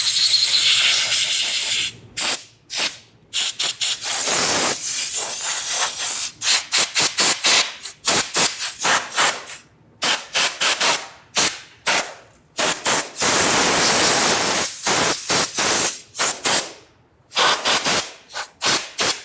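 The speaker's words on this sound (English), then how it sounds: "Now we're going to use some compressed air to clean this off." Compressed air blows debris off the intake of a 3.8L V6 Ford Mustang engine in repeated loud hissing blasts, some long and sustained, others short rapid bursts.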